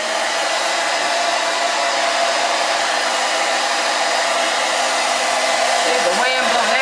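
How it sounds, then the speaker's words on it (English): A hair dryer blows loud and close in a steady, unbroken roar while it dries a quick weave, with a brief shift in pitch near the end. "I'm going to blow dry it."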